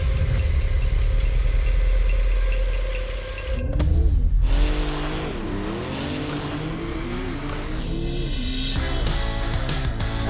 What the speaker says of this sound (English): It's amazing how this 911 Turbo S accelerates.